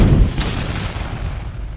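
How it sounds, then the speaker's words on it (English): An explosion in a basement, set off by a spark when a light was switched on: a heavy, loud boom with a sharp crack near the start, then a deep rumbling roar that slowly fades, with no voices. "The spark caused an explosion."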